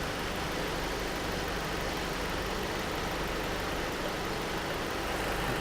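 A car engine idles steadily during a power steering fluid service with hoses connected to the reservoir, a constant low rumble holding even and unbroken throughout without any talk.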